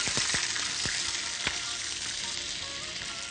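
Steady hiss of hot liquid hitting a pan as about a litre of chicken stock is poured in for sweet corn chicken soup, with a few sharp crackles early on, continuous and close.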